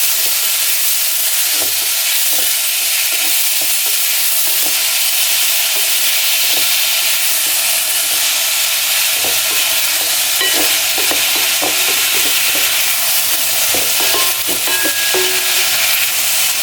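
Peppers sizzle and fry loudly in a pan for a chickpea dish, with a steady close hiss and occasional stirring scrapes throughout.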